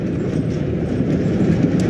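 Rhythmic rumbling clatter of a train carriage in motion, steady and continuous, heard from aboard the train in the video game Little Misfortune.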